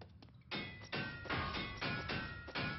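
Cartoon hammering on metal prison bars: about six loud, ringing metallic strikes land in an uneven rhythm, each with a bright clang that decays into the next blow.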